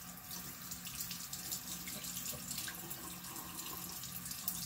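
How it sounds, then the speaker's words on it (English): Tap water runs steadily over a makeup brush being rinsed at a sink, a soft continuous splashing hiss heard alone at low volume. "And then I'm gonna run it under the water again."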